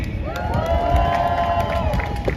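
Crowd at a pro-Palestinian protest in Leeds cheering and applauding for a speaker, a sustained roar of voices and clapping with a loud whoop rising above it, heard up close.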